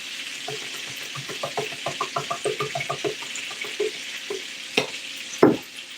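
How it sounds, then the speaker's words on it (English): Pork searing in a hot pan on high, a soft sizzle under a run of quick clinks and taps, then two sharper knocks near the end. "Yeah, it's a nice sear. I want to make sure that I keep it juicy though. So right now I have it on high."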